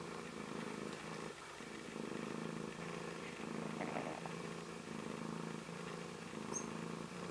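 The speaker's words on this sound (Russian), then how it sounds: "Да, она тоже мурлычет." A mother domestic cat purrs steadily while nursing her newborn kittens just after giving birth, a soft continuous rumble lying low and close under a faint background hum, with no talking.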